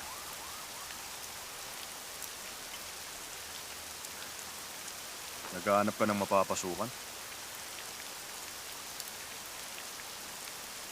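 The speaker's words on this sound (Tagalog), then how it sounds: "sinong makakapagsabi na bubuhos ang ulan?" Rain falls in a steady, hissing wash throughout, and a voice speaks briefly over it midway before the downpour continues alone.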